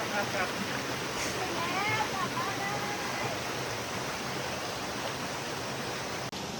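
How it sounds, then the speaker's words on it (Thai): A forest stream flows along the hiking trail to Salat Dai Waterfall, giving a steady, close, broadband rush of water that stays even and unbroken throughout, with faint traces of voices in the background. "เราก็ถึงลำธารแล้วนะครับ"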